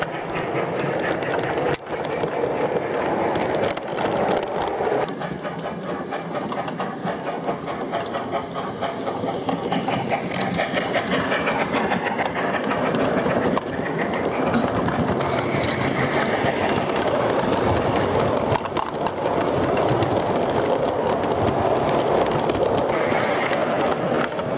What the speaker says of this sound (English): we see the Royal Scot starting its journey.